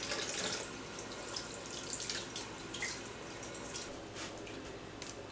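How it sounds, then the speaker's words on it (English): Kale leaves are rinsed under a running kitchen tap for a sausage potato soup, giving a steady, close hiss of flowing water with faint drips and splashes throughout, and no talking. "I'm just going to rinse these off so that they can go in our soup."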